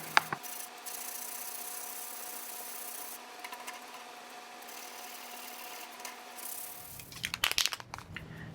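Steady rasping sanding on a vintage steel glider part, an even scrubbing texture running for several seconds, then stopping, followed by a few scattered clinks and handling noises near the end.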